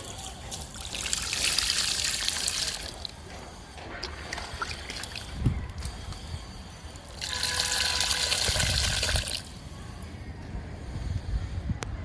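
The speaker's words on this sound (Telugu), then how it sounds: "నిమ్మ మొక్కకి ఇస్తున్నాను లిక్విడ్" Homemade liquid fertilizer splashes and trickles onto a potted lemon plant in two steady pours, one at the start and a longer one midway, close and fairly loud, with quieter rustling between them.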